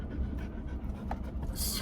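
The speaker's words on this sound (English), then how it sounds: "This is my new dog." A dog panting rapidly and steadily close by, soft rhythmic breaths at low level with a brief higher sound near the end.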